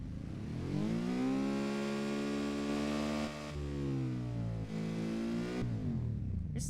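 Kei sports car engine built in Automation and driven in BeamNG.Drive, just under 63 horsepower, revving loudly with a rising and falling whine that holds steady for several seconds, heard alone without speech.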